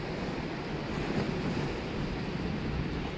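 Ocean waves crash and wind roars at the Beavertail bluffs in Rhode Island on a mild fall evening, a steady dense wash of surf and wind noise with no speech.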